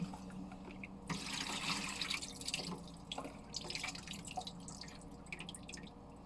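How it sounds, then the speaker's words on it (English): Pieces of meat being washed by hand in a basin of water in a kitchen, giving close, continuous splashing and dripping with a tap-like trickle throughout. "put the pieces of meat into the water and wash away the blood flow"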